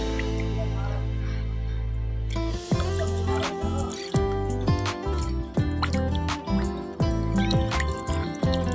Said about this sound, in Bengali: ধুয়ে পরিষ্কার করে নেই বন্ধুরা। দেখো মাছগুলা ধুয়ে নে।